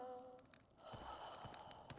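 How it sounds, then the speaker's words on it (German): Outer Wilds plays its fail sound while the character wakes with a sharp gasping breath, a soft breathy intake over a faint tonal sting and low background ambience. "der Fail-Sound gleichzeitig mit dem keuchenden wieder aufwachen"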